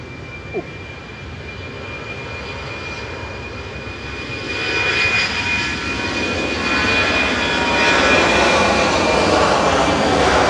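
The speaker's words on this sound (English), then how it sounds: "is this a little business jet taxiing out?" A small business jet taxis out at Manchester Airport, a steady engine hum with a high tonal whine that swells louder in the second half as it passes closer, with no voices.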